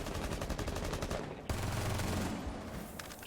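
Rapid automatic gunfire in a tactical shooter game, close and dense, with bursts running through the clip under faint background noise.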